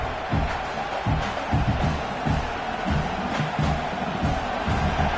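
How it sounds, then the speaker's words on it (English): Football stadium crowd noise in a college football video game, Iowa hosting LSU in a playoff quarterfinal: a steady, dense roar of cheering fans with scattered shouts, continuous throughout. "this crowd is fired up. Listen to this noise here."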